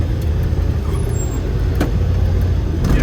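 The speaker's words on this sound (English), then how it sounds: "obviously it's all engine noise now, so you don't hear the tires and the road noise and the brakes" Campervan engine noise from inside the cab while driving, a loud, steady low rumble with a couple of faint clicks and no talking.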